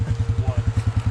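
A Polaris ATV engine with a loud stock exhaust thumps in a steady, rapid idle-like pulse close by, each beat distinct and even.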